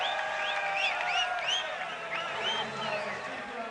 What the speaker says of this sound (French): sous les acclamations du public